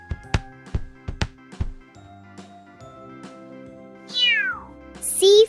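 Several sharp taps or clicks, then a cat meows clearly and closely near the end, followed by a second short high meow.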